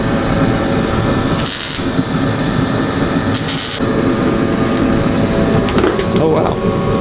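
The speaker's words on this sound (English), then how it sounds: "You just want to grind your weld." An angle grinder grinds down a fresh steel weld on car sheet metal during rust-hole repair, a loud continuous harsh whir with brief dips where the disc lifts off, and a voice speaking faintly beneath it.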